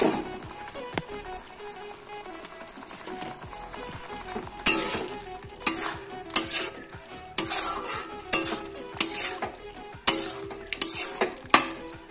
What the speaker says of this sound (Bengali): তো এইবার আমি চিকেনগুলো দিয়ে ভালো করে কষবো